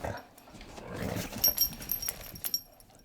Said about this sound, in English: Definitely, Scooby will be a guard dog